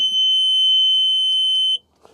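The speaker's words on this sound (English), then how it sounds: "If you come up and it's buzzing, I'm going to hit the E-stop." A generator's alarm sounds a loud, continuous high-pitched electronic tone for almost two seconds, then cuts off sharply, leaving faint background noise.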